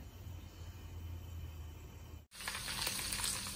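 Garlic and ginger paste fries in a pan for chicken liver curry, a soft steady sizzle that cuts off briefly, then returns louder and brighter with crackling spits.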